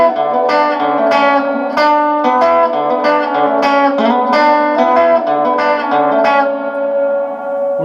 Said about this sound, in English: or we can add a full reverb.